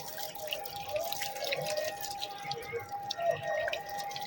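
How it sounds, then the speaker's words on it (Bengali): Water poured at the base of a newly planted plant in a village garden, a soft trickling and dripping stream that runs steadily at moderate level. "গাছ এখন জল দিচ্ছে এইভাবে একটু গোড়া দিয়ে দিয়ে দাও"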